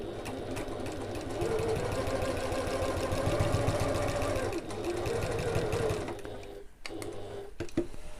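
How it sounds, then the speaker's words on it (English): A sewing machine stitches across fabric for an evening bag at a larger seam allowance, its motor humming at a steady close drone that eases briefly near the end before starting again. "Now we're going to sew across these at the larger seam allowance"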